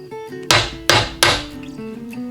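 Three sharp metal-on-metal hammer strikes drive a nail, standing in for a punch, into a gasket on a workbench; the blows land close and loud at an uneven pace, with a quiet pause after each.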